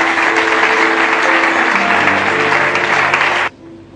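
Church congregation at a bible school graduation ceremony claps in loud, dense, sustained applause that cuts off abruptly near the end, leaving a faint room hum.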